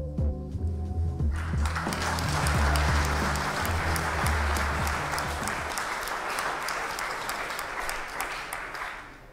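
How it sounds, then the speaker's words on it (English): Audience applause breaks out at a live George Galloway talk event, a dense wash of clapping that swells over a low musical or rumbling bed and then carries on steadily, loud and close, for several seconds. "Why are you applauding that?"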